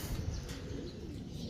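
Racing pigeons coo softly at a loft during a basketing session, with low, muffled murmuring and a few faint chirps throughout.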